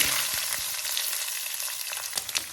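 Black cumin and garlic sizzle in hot mustard oil for a taro chutney, a loud, dense, continuous crackle up close, with a few sharper pops and stirring knocks toward the end.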